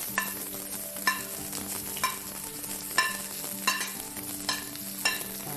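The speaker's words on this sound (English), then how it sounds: "Now we're going to add some garlic, and onions." Garlic and onions sizzle in hot oil for Chinese chicken fried rice, with a steady frying hiss and regular stirring scrapes roughly once per second, close up and with no talk.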